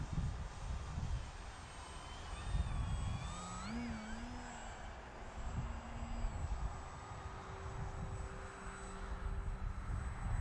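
An FMS PA-18 model airplane drones along in flight, its small engine faint and distant with wavering pitch, under light wind noise outdoors.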